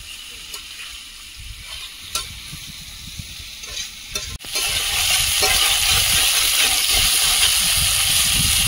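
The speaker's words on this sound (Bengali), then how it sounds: "আলুটা ভালোভাবে ভেজে নিয়েছি," Potatoes frying in a pan, a low bubbling sizzle with a few stirring clatters, then a sudden loud burst of hissing and spattering that continues strongly to the end.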